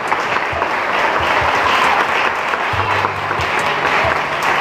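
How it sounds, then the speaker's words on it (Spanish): Steady applause from a congregation at an evangelistic church service in the Dominican Republic, a dense wash of clapping that holds loud and even throughout, with a low hum beneath. "un fuerte aplauso a papá"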